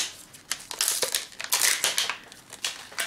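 Packaged products from ToSave.com being torn open and unwrapped, with a series of sharp crinkling and crushing bursts of plastic or paper packaging, close and fairly loud, alone.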